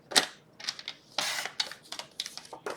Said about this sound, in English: We're going to take this 4 by 12 piece, and we're going to cut it at 5 1/4.